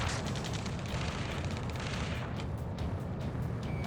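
Continuous battle gunfire and booming in the video game Ace Combat 7, a dense rumbling barrage of overlapping shots and blasts that stays loud and unbroken throughout.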